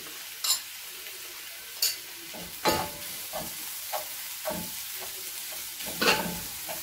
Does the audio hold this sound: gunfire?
no